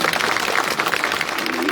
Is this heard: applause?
yes